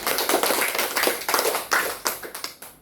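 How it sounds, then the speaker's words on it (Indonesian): Hand clapping in a school catechesis class setting: a short burst of scattered claps from a small group, close and fairly light, tapering off after a few seconds. "Kita berikan tepuk tangan."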